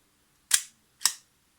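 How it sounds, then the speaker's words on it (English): Shutter of a Zorki 4K rangefinder film camera being fired twice, two sharp, close mechanical clicks about half a second apart in a quiet room. "So what I'm interested in is how the shutter operates right now."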